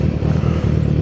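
A Kawasaki motorcycle engine revs nearby on a downtown Charleston street, a loud steady low rumble with a brief throttle swell.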